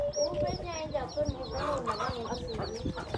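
Backyard chickens cluck and chatter in a steady, overlapping stream close by, with repeated short calls from several birds while a person talks over them.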